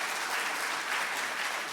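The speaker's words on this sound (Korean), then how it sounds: "박수 한번 해주시죠" A church congregation applauds a visiting pastor during a Wednesday night service, a steady wash of dense clapping throughout, moderately loud and even.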